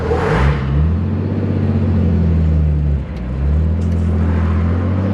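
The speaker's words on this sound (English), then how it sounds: "This will be your first time in the interstate in like a 60-year-old car." A 1965 Chevrolet Corvair, a roughly 60-year-old car that had been flooded, accelerates onto an interstate, its engine droning loud and steady with a brief dip around a gear change before pulling on.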